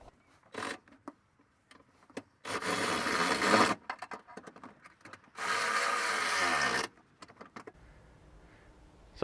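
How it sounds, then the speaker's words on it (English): Ratchet and spanner doing up bolts on a dual battery tray in a Toyota Prado 2.8L 150 series, with two long, loud bursts of rapid ratchet clicking between lighter scattered metallic taps and clinks. "with a ratchet on one end and reaching under the guard with a spanner on the other side, we can do up these bolts"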